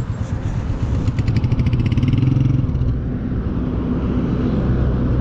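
Royal Enfield Meteor 350 motorcycle engine running steadily during rider practice, a loud continuous low rumble with slight rise as throttle is applied, close by and with no talk over it.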